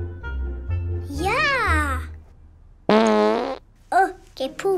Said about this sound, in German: Oh, gepupst.